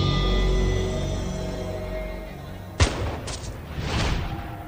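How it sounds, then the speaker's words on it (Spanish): A single sharp musket shot cracks out partway through, followed by a short rumbling echo and a second burst of noise, in a battle re-enactment of Saratoga with patriot marksmen firing at British officers. "Falla el primer disparo."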